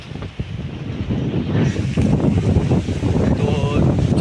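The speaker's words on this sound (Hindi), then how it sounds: "बहुत ज़्यादा तेज़ हवा चल रहा है" Strong wind buffets the microphone outdoors, a loud continuous low rumble that swells and gusts throughout, with a faint voice underneath.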